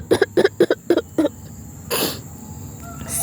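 A voice imitates a lion coughing with five quick rhythmic coughs, followed by a brief breathy hiss.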